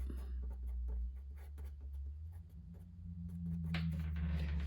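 A pencil scratches on paper as a landscape drawing of Rocky Mountains trees is shaded, giving a quiet, steady scratching close by over a low background hum, without speech.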